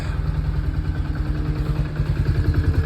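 An engine idles steadily after a carburetor adjustment, a close, even low throbbing pulse with slight mechanical clatter and no talk.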